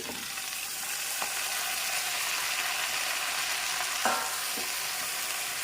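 Chopped tomatoes added to fried onions in a hot pan, a steady broad sizzle that stays loud and even throughout, with a few faint scrapes and clicks from the pan, close and without voices.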